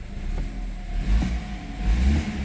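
A 2012 BMW 528i xDrive with the N20 engine and automatic transmission running smoothly without misfire, a steady close idle hum with two brief revs swelling and settling.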